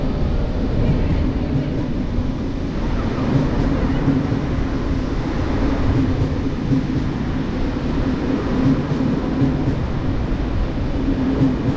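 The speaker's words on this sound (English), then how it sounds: "So here the train comes." A local train rolls into a station platform in Haifa, Israel, with a loud, steady rumble and rattle that holds throughout, and faint voices beneath it.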